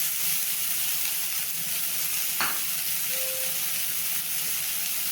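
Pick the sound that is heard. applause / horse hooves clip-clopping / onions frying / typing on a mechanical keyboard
onions frying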